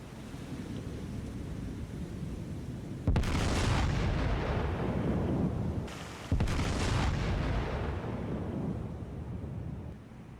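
Heavy naval guns from the battleship duel between USS New Jersey and Yamato in the War on the Sea game boom in two loud, sustained salvos over a constant low rumble, each blast rolling on for a few seconds.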